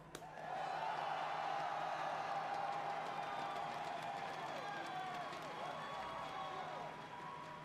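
A crowd at the EVO esports grand final cheers and applauds in a sustained, loud roar that swells in and holds, with an announcer's voice over it.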